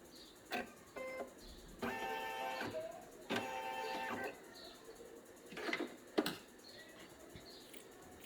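An embroidery machine stitches a unicorn comforter blanket with a soft, fast rattling and clicking in short runs, broken by pauses and small handling taps, at a quiet level.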